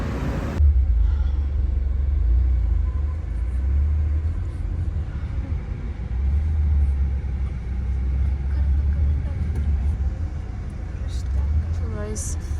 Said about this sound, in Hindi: बहुत बुरे फंसे हुए हैं ट्रैफिक में, धीरे धीरे चल रही है गाड़ी।